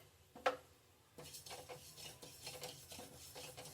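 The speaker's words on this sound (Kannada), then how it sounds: "ಜೀರಿಗೆ 2 ಸ್ಪೂನ್ ಹಾಕಿ ಹುರಿತಾ ಇದ್ದೀನಿ." Cumin seeds roasting in a pan and stirred with a spoon, giving soft scraping and rasping strokes with a sharp clink near the start, quiet and close.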